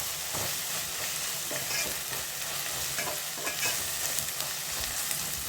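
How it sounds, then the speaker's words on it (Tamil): Ginger garlic paste stir-fried in a pan for chicken gravy: a steady, dense sizzle runs throughout, with repeated scraping strokes of a spoon stirring through it and no talking. "இந்த இஞ்சி பூண்டு பேஸ்ட்டையும் நல்லா சேர்த்து வதக்கி விட்டுக்கிறோம்"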